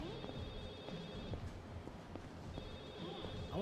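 A telephone rings inside the Yakuza 0 video game, a repeating electronic bell tone that sounds in two bursts, at the start and again near the end, over steady game ambience and background sounds.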